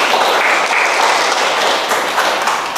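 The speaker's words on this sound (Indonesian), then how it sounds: "kita beri tepuk tangan" Students in a university classroom lesson give a burst of loud, dense clapping that runs steadily from start to finish, a close and continuous patter.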